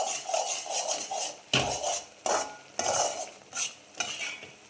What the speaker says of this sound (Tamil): மாதிரி நல்லா கிண்டி விடணும்.